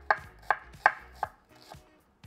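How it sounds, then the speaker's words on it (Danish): Onions being finely chopped with a kitchen knife: five or six crisp, evenly spaced blade strikes on a cutting board, close and clear, with no talking. "Så snitter vi sådan set bare løg lidt fint her"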